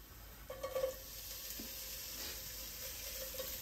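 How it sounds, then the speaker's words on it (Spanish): Chopped onion sizzling in hot oil in a pan, a steady quiet frying hiss with a few brief stirring scrapes near the start, close and alone. "Vamos a freír la cebolla."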